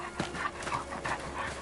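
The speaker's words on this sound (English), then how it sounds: "Big dog." A big dog in the Visions of Mana video game pants in quick, steady breaths, close and moderately loud, with a faint ambient game backdrop behind it.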